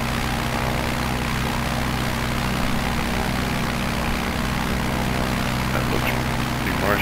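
Aircraft engine in Microsoft Flight Simulator 2020, flying over a marshy basin on Xbox Series X: a steady, dense propeller-like drone at constant loudness throughout.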